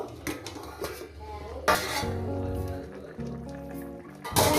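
A lid comes off a covered steel pot of fish curry with small fish, potato and spinach, giving a sharp metallic clank followed by softer clatters and a second clank near the end.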